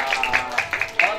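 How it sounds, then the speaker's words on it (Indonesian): A few scattered claps from a small audience at a children's birthday party with a clown, brief and irregular, fairly close, with voices mixed in. "Iya, tepuk tangan dong buat Donggi."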